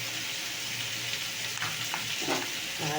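Potatoes fry in a pan under a dense, close sizzle, with a few soft stirring scrapes near the end.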